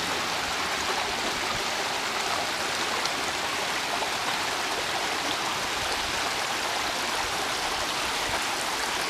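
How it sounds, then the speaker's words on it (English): A stream runs steadily down toward the sea along a coast path between Grants Houses and Seaham, a continuous, even broadband rush of flowing water with no voices. "And the stream flowing down"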